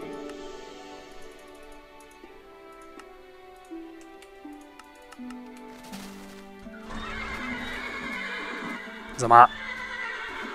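Horses in Minecraft with the Fossil & Archeology mod, a shrill whinny breaking out near the end over game sounds, hoof clip-clop and someone talking throughout.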